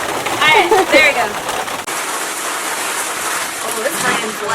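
Steady rain hisses across the whole clip, with a person talking over it during the first couple of seconds.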